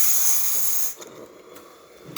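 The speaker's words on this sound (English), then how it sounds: "as you can see, yes, nice steam coming out of this machine" Strong, close hiss of steam blasting from the steamer wand of a DeLonghi Magnifica espresso machine, steady for about a second before cutting off, leaving faint spits and puffs.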